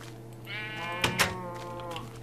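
Minecraft sheep bleat loudly nearby in a couple of wavering, drawn-out calls, with two sharp clicks in between and no talking.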